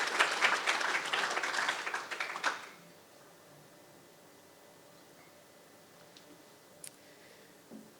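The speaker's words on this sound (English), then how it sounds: "Another round of applause, please." An audience applauds for under three seconds, a fairly distant burst of clapping that quickly dies away into quiet room tone with a few faint ticks and rustles.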